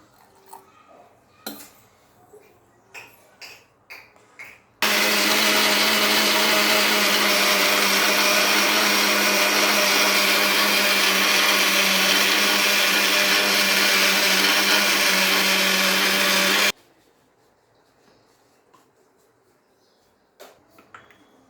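Kitchen mixer grinder churning idli batter with a little added water, a loud continuous motor roar lasting about twelve seconds, with quiet clinks and handling noises before and after.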